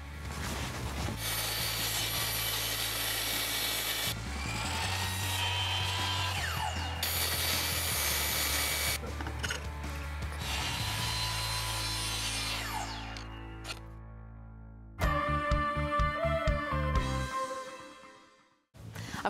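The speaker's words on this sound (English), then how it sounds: "table saw, chop saw, bandsaw, all the saws" Power saws, including a table saw, chop saw and bandsaw, cut wood in a series of loud whirring, rasping passes with motors humming underneath and pauses between cuts, ending with a shorter tonal spin-down.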